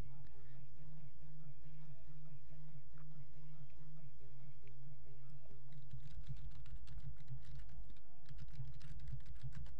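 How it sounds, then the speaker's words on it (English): Fast two-handed typing on a computer keyboard, quiet at first and then a dense run of rapid clicking keys over a low, steady background hum. "Two-handed typing."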